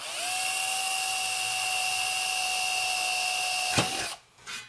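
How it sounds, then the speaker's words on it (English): A power drill bores a starting hole in a compact tube amplifier chassis, giving a steady, loud high-pitched whine with strong tonal harmonics that runs for about four seconds, then a sharp crack as it breaks through and winds down. "I'm going to go ahead and drill this starting hole"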